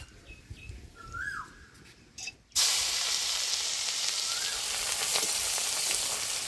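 Ginger, garlic and onion hit hot mustard oil in a kadai already tempered with bay leaf and whole cumin, and a loud, steady, close sizzle bursts in suddenly after a few faint bird chirps and stays constant.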